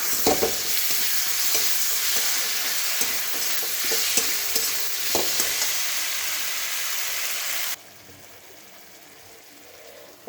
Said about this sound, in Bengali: এখন জিরে বাটা, অল্প রসুন বাটা আর পেঁয়াজ বাটা, সব আমি একসঙ্গে ভালো করে ভেজে নেব।